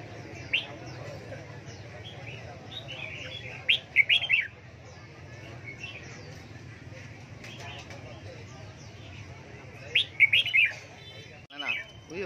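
Caged birds chirp at a Vietnamese ornamental bird market, bright short tweets in a few bursts over steady background murmur, with people talking nearby.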